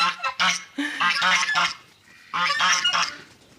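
Loud, harsh honking from several domestic geese in overlapping bursts, a brief lull, then another noisy round of close calls.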